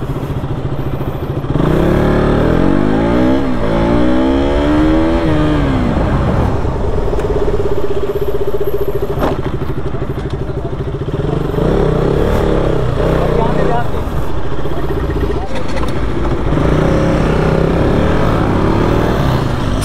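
A motorcycle engine revs hard and loud up close for a stoppie stunt, with rising and falling pitch sweeps and sustained roar throughout, on a road in Jammu.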